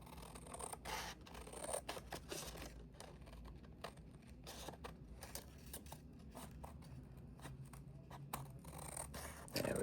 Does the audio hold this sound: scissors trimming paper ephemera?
yes